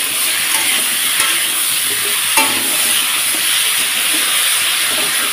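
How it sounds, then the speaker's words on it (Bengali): Potatoes and eggplant fry in a pan with light steam, giving a steady loud sizzle with occasional scraping stirs throughout. "আলু বেগুনটাকে বেশ সুন্দর করে লাল লাল করে হালকা স্টিমে আমি ভেজে নেব"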